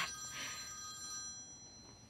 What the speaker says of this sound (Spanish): Es tu teléfono, ¿quieres?